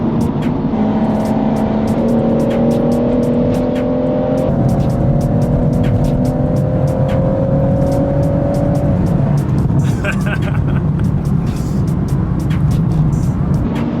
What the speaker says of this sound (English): Guys, the car sounds absolutely insane as well